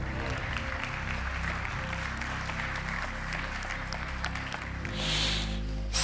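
An audience at a conference talk on finance and space data applauds to welcome the next speaker, steady clapping over a sustained musical tone, swelling slightly near the end.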